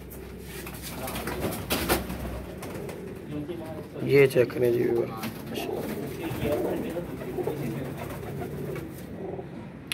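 Flying pigeons coo in low, throaty bursts throughout, with someone talking over them close by and a brief louder flutter or handling noise partway through.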